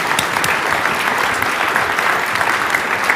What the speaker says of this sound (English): a big round of applause for those two things